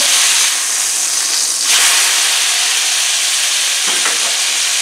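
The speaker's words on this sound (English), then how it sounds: "Okay, I'm going to flip this burger." A flipped burger sizzles and hisses loudly on a hot cooking surface, a steady close-up frying hiss with a brief surge as the patty lands, and a light clink near the end.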